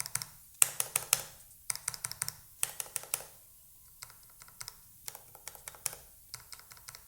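Arcade button switches on an R16 controller, compared across Wind Engine, Shadow Hunting and stock switches, clicking in quick bursts of sharp taps with short pauses between groups, close and alone.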